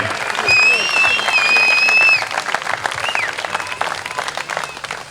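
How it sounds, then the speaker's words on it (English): Crowd at a jam event applauding GoFundMe donors, a steady wash of clapping with whistles cutting through early on, tapering slightly toward the end. "let's give a big round of applause for everybody who donated for the GoFundMe"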